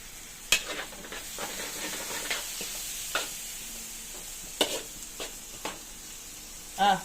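Dinuguan sizzles in a pan while being stirred, with sharp intermittent clinks and scrapes of the utensil over a steady frying hiss.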